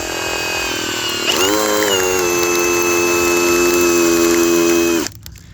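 Drill-powered wood splitting auger whines up at about one second and grinds steadily into old lumber, a loud sustained motor tone that cuts off abruptly near the end.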